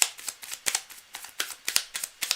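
A deck of tarot cards being shuffled close by, a quiet series of crisp riffling flutters in an uneven rhythm with no talking.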